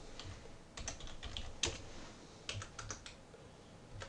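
Someone types on a computer keyboard, tapping keys in quick irregular bursts with short pauses, close and fairly quiet, with no one talking.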